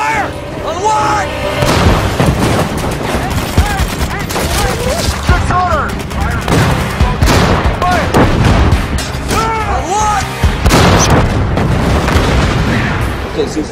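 Tank cannon fire in a World War II battle scene from the 2014 film Fury, heavy booms and gunfire bursts repeating through a dense, loud mix of battlefield noise, music and shouted voices.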